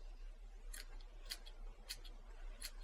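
Scissors snip quilt threads in about four short, crisp clicks spaced roughly half a second apart. Each snip is faint and close, over a quiet background.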